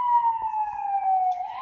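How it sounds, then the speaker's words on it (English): A wailing ambulance siren passes on a New York City street, a loud steady tone that sweeps slowly downward as the vehicle goes by, with faint traffic rumble beneath it. "let's let this ambulance pass so that I could say my last thing and it won't be so annoying"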